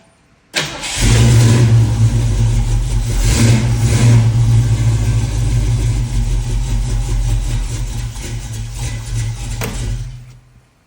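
A 1968 Ford Mustang with a freshly installed new carburetor cranks briefly and fires up, settling into a loud, steady rumbling idle for several seconds before cutting off near the end.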